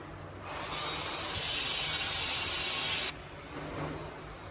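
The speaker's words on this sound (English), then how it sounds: "our tomatoes and red chilies are boiling" Tomatoes and red chilies boil in water over a flame, making a steady, loud bubbling hiss that drops off sharply near the end before a quieter hiss resumes.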